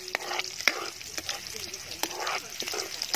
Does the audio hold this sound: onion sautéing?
yes